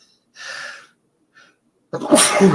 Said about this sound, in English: I apologize for the sneezes.